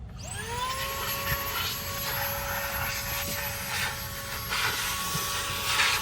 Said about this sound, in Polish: Szybka zmiana, przekazałem odkurzacz